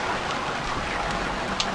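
Steady rain in the survival game Stranded Deep, a dense even hiss of falling drops close around, constant throughout with a faint tap near the end.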